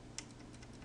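A computer keyboard being pressed during LibreOffice Writer work, with a few faint, quick key taps spaced across a quiet background and no talking.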